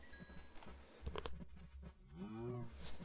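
A Minecraft cow moos once near the end, a short low groan over faint game ambience and soft clicking.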